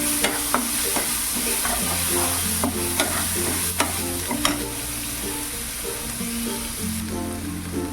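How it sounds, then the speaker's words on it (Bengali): Garlic frying in melted butter for a garlic prawn dish, a steady close sizzle with repeated metal clinks and scrapes of a spoon stirring against the pan throughout. "এবারে আমি গার্লিকগুলোকে দিয়ে দেবো দিয়ে একটু ভেজে নেবো"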